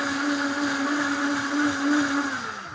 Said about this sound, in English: that's all we gotta do with the blender